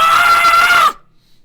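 A voice imitates a shrill, sustained scream, loud and close for under a second, then cuts off abruptly into near silence.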